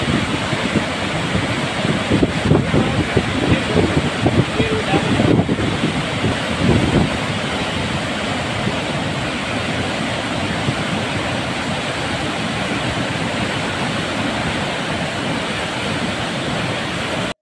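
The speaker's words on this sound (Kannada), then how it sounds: "ಇಂದು ಕೃಷ್ಣಾ ನದಿಗೆ ಹೆಚ್ಚಿನ ಪ್ರಮಾಣದ ನೀರನ್ನು ಹರಿಬಿಡಲಾಗಿದೆ." Water pours from the 19 open gates of the Basavasagar reservoir at Narayanapur into the Krishna river in a constant loud roar, with gusts of wind buffeting the microphone.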